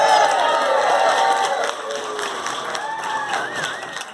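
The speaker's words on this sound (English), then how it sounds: "Give yourselves a round of applause for that." Gala audience applauding and cheering at a hall of fame induction event, a dense wash of clapping loud at first then tapering slightly while whoops and calls rise over it.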